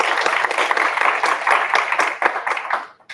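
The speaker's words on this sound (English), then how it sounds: "Claps for Charles." Audience at a data science lightning talks meetup clapping steadily for a few seconds, a dense burst of applause that thins out and stops at the end.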